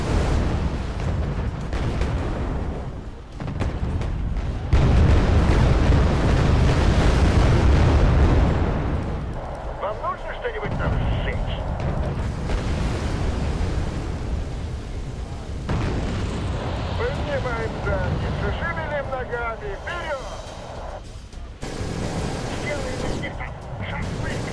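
Artillery shells exploding in the real-time strategy game Wargame: AirLand Battle, heavy booming blasts rolling in loud waves through a long battle mix, with someone talking over much of it.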